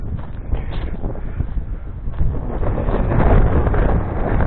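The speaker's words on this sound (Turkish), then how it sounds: "Tabi böyle olunca rüzgarı da oldukça iyi alıyor." Steady, heavy wind buffeting a microphone on a hilltop beside a large rock in the Bozüyük–Domaniç highlands, Turkey, a continuous low roar with gusty surges and no voices.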